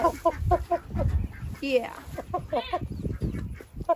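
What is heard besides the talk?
chicken clucking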